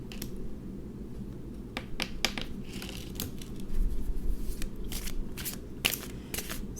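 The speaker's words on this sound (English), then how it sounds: "I'm going to pull one more card" Tarot cards riffle, slap and snap in a string of sharp papery bursts at close range over a steady low hum, with a denser flurry of shuffling midway.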